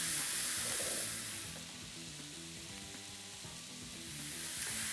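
Pork for garlic pork fried rice sizzles steadily in a hot wok as it is broken up, a continuous loud hiss that eases slightly midway, then swells again.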